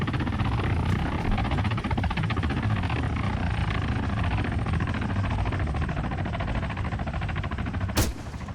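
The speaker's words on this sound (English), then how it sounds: "All right, first target. Helicopters." A helicopter flying in the ARMA III video game gives a loud, continuous rotor thump that runs throughout, with a sharp burst near the end.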